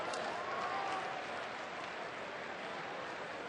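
A midweek ballpark crowd of about 26,000 at a Mets versus Rockies baseball game bursts into sustained applause, a dense, even wash of clapping heard from a distance for the whole stretch.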